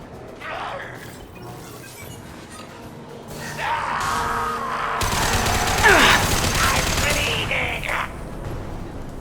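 A Concussive Shot power fired during a Mass Effect 2 firefight, heard as a loud blast that swells into a roaring, crashing burst among rapid gunfire, with shouting voices over the din.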